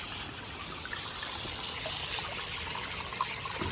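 Water from a homemade DIY pond filter trickles and splashes steadily in a continuous, moderately close wash with no talk over it.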